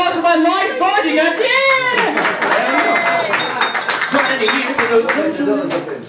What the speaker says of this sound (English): Another round of applause for my life buddy again!